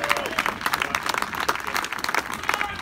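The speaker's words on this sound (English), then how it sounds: "And biggest round of applause for all of them." A crowd at the finals of a 4WD RC car racing meeting applauds with scattered, brisk clapping that rises and falls over a few seconds, moderately loud with faint background voices.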